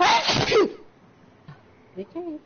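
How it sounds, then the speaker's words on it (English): A single sharp human sneeze bursts out loud and close at the start, followed by a short quiet pause and then brief spoken words. "I feel like I have to sneeze."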